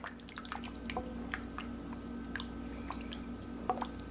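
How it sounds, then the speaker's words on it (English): Rabbit jambalaya being stirred in a pot, which makes quiet, wet squelches and drips with occasional soft clinks, all in an even rhythm close by. "let's stir this up and see what it looks like"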